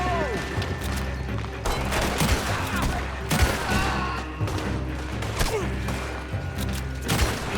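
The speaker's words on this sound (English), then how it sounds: "I almost feel bad shooting all these people" Gunfire in Red Dead Redemption 2 as people are shot, with repeated loud cracks and booming shots over a steady bed of music and action noise, scattered irregularly across the scene with occasional voices.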